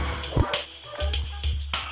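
A dog whimpers and yips in the background during a Terraria session, with short whining cries recurring at intervals over low-frequency room noise.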